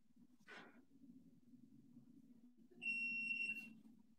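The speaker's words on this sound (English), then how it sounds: "just turning off the timer" A kitchen oven timer gives a short high electronic beep, first faint, then a louder steady tone that cuts off, over a low background hum with no speech.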